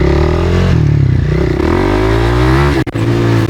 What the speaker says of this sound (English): I'll show you a power wheelie.